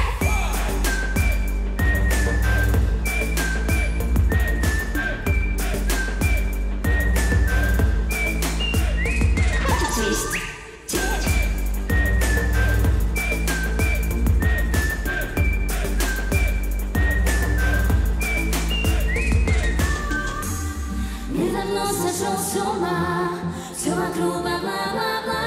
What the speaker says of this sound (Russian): Свисти.